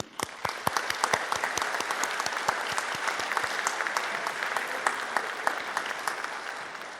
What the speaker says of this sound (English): I'd like you to join me, please, in a big round of applause and welcoming for our honorees this evening.